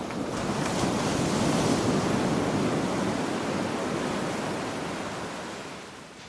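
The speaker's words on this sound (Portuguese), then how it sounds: "Qual que é a desse barulho de ondas?" Ocean waves surging and washing in a steady broadband roar, swelling early then slowly easing, with a windy hiss and no voices.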